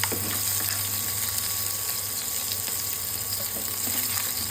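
Fish sizzles in hot oil, a steady moderate hiss with faint crackles and an even low hum beneath, no one speaking.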